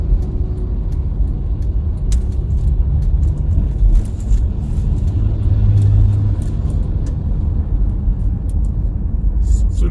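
Heavy vehicles crawl through the Tomang toll interchange in Jakarta, a steady dense rumble of engines and road noise filling the scene at close range without pause.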